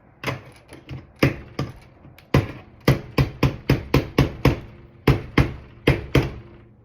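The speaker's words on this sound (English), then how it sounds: "Get my next couple steps ready while my piece is getting pounded together." Lego pieces for a Lego ice-cream truck set 60253 being pounded together off-camera, a series of sharp, fairly loud knocking taps in an irregular burst of around fifteen hits, no talk over them.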